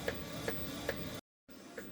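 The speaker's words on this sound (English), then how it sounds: "here is my design printing in my DTF printer" A DTF printer runs a design job, its print head shuttling with evenly spaced mechanical clicks and whirs about every 0.4 seconds. The sound cuts out briefly, then resumes, close and moderately quiet with no voices.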